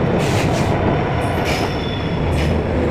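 A passenger train on an Indian railway rolls loudly into a station platform, with a heavy continuous rumble of wheels on rails and high squealing from the wheels, close and steady throughout.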